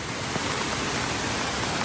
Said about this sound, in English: Quite a waterfall out there.